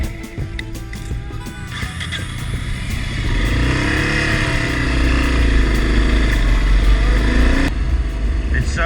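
Motorcycle riding on an open road, a continuous engine drone with wind noise that rises and steadies, while a voice talks briefly near the start.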